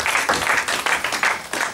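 A church congregation applauds and cheers in praise during a French-language service, steady clapping with rhythmic swells across the whole moment, fairly close and full, no talking over it.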